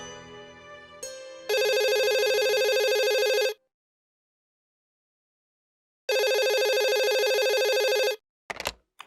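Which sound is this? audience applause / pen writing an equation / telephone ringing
telephone ringing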